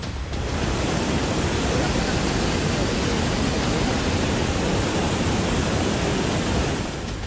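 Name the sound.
fierce sea waves during cyclone Ditwah in Sri Lanka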